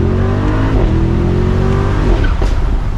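A Mercedes-AMG SL63 Roadster accelerates hard, its engine note loud and climbing in pitch, with a sharp exhaust pop near the end.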